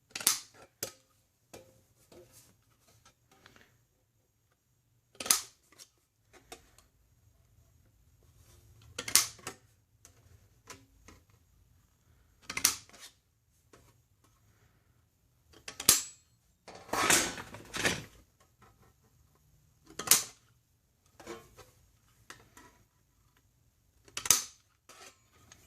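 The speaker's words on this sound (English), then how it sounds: "Go ahead and cut these end tabs off here." Snips cut the end tabs off HVAC sheet metal for an end cap, a series of sharp, separate metallic snips spaced a few seconds apart, close and crisp against near silence.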